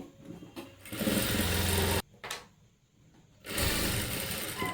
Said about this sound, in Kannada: ಈಗ ಸ್ಟಿಚಿಂಗ್ ಮಾಡ್ತಾಯಿದ್ದೀನಿ ನೋಡಿ